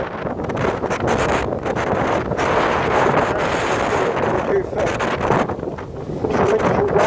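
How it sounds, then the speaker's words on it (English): Strong wind on a blustery day buffets the microphone outdoors, a constant loud broadband roar with surging gusts throughout, carrying no clear speech. "It's very windy today."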